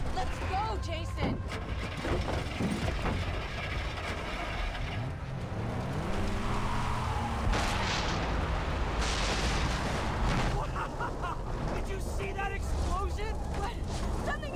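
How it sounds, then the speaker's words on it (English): A vehicle explosion in the video game Far Cry 3 bursts amid gunfire and engine noise during a frantic chase, a dense, loud rumbling blast mixed with shouting voices and continuous action sounds. "See that explosion? What? Something exploded!"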